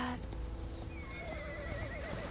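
A black horse neighs and gallops in the Reverse: 1999 video game, a high wavering whinny over the steady drum of hoofbeats, close and fairly loud with no talk.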